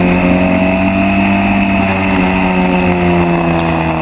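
Onboard a historic Formula Ford race car at Silverstone in 2014, a loud, steady engine drone with a strong harmonic buzz and slight pitch shifts as the car holds speed through the corners, close and continuous.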